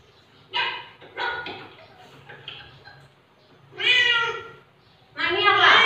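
A few cat meows sound in short bursts, separated by pauses, with a louder, longer meow near the end; fairly close and clear.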